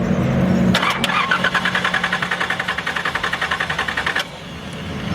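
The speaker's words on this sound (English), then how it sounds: "Start it up or turn on the ignition." A car engine cranks with a rapid, even starter whir for about three and a half seconds, then stops without catching, close and loud, at a drift day.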